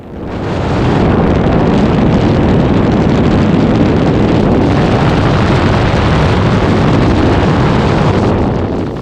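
Engine of an ELA 07 gyrocopter in flight, a loud, continuous propeller drone mixed with heavy wind rush over the microphone, steady and unbroken after a short fade-in.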